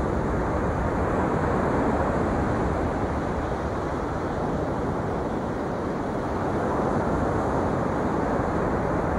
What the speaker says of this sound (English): Listen to the sound of the waves.